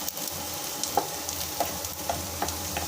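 Onions sautéing in a pan with cashews for cauliflower gravy give a steady low sizzle, punctuated by several light scraping taps of a spoon stirring at regular intervals.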